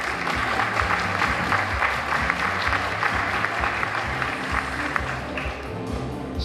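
A room full of people at a teacher-of-the-year event claps for a teacher, giving dense, sustained applause that stays loud and even throughout, with a steady rhythmic thump running underneath.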